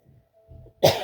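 A single sharp cough bursts out during a sermon near the end after a moment of near silence and faint murmuring.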